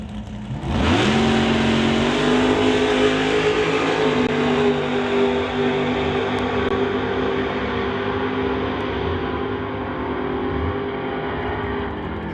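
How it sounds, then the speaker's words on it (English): A drag-racing Camaro with a 621 big-block Chevy engine, in door-slammer qualifying, erupts into a loud sustained roar that holds steady for over ten seconds with a slight drop in pitch near the end. "Camaro, running a 621 big block Chev."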